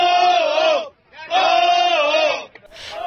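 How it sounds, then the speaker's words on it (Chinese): A crowd cheers at the Suez Canal as tugboats free the stuck Ever Given container ship; two loud, sustained bursts of shouting close by, separated by a short pause, then a final brief cry. "到处都是掌声、口哨声和欢呼声"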